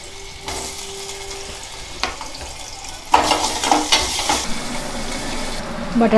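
Potatoes go into hot oil in a home kitchen pan, starting as a soft background hiss that turns into a louder, crackling sizzle partway through, with a few sharp pops near the end.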